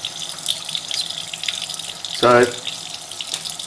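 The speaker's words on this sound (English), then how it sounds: "when you wet that, you can see the water just flows over that surface and doesn't bead at all" Water runs from a shop sink tap while parts for a steampunk Nixie clock are rinsed, a steady faucet flow with a brief louder splash near the middle and a voice speaking a word at the start.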